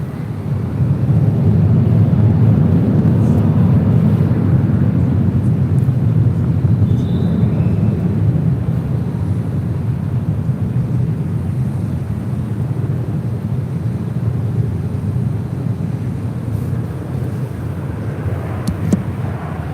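A SkyWest airliner taking off from runway 24 left at LAX gives a steady, broad engine roar heard from a distance, continuous and fairly even throughout, with no talk.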